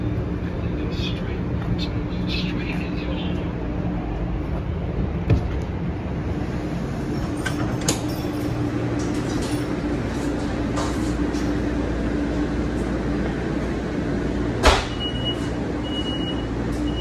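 Vehicle rumble and rolling noise of a battery-powered tram pulling away from Milwaukee's intermodal station, steady low drone with occasional clanks and a brief high squeal; voices murmur faintly.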